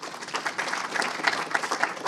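Audience applause following thanks to a conference events team and helpers at a talk, a steady wash of many hands clapping at moderate level with scattered sharper claps throughout.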